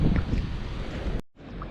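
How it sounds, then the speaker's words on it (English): Strong gusting wind buffets the microphone at sea on a rough surf break along the Darien coast between Panama and Colombia, a loud continuous roar that drops out for a moment near the end, then returns. "it's just more rough surf break with high winds and gusts"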